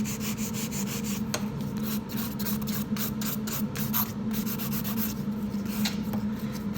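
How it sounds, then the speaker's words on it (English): A 180 grit file runs over a long squared sculpted acrylic nail with fast, continuous scratchy strokes, close up and steady, with no voice over it. "So I run my 180 over the whole nail to minimize the larger scratches, starting the buffing process really."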